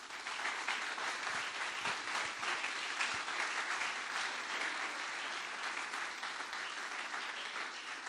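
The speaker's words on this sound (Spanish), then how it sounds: "Dele otro fuerte aplauso al Rey de Reyes" A church congregation at a Sunday service claps loudly in praise of the King of Kings, a dense, steady burst of applause filling the room without pause.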